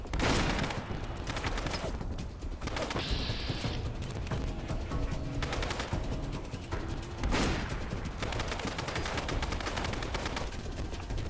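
Repeated gunshots ring out in a Fallout London firefight, several sharp bursts spread across the span with a steady rumble of game noise underneath.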